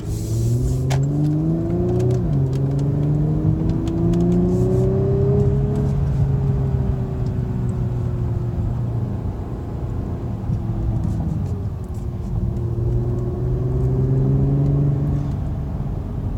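A 2018 Porsche Cayenne GTS engine hums and rises through the gears on a test drive, the pitch climbing and dropping with steady road rumble underneath, no voices.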